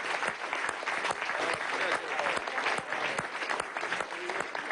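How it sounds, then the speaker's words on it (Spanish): A crowd applauds steadily throughout, dense clapping filling the whole stretch at a moderate distance with no single voice standing out. "Aplauso."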